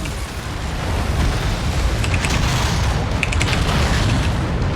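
A mech is blown apart in MechWarrior 5, heard as a loud, sustained rumbling boom with crackling debris bursts near the end, dense and close, with no talking.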